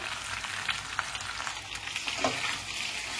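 Whole wheat durum pasta cooks in a pan with a continuous close sizzling hiss and occasional light stirring scrapes, with no voices.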